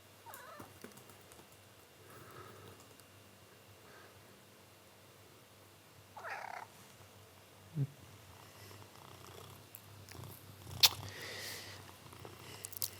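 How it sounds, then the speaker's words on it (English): A pet cat purrs softly and steadily in a quiet indoor room, a low continuous rumble broken by a few brief scuffles and sharper noises near the end. "Oh, my cat is attacking me."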